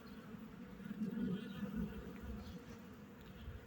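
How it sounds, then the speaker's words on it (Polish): A mason bee buzzes steadily among flowering apricot trees, a low continuous drone that swells and fades slightly as it moves nearby, with no talk. "będzie pszczoła murarka?"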